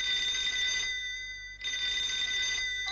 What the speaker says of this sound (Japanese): この電話、 もうすぐかかってくるの。